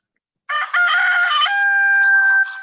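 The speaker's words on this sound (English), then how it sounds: "The rooster. You got the rooster, my friends" A rooster crows loud and close, one long sustained cock-a-doodle-doo that starts abruptly after a brief silence and holds to the end.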